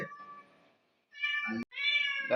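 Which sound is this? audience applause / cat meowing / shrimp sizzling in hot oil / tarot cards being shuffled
cat meowing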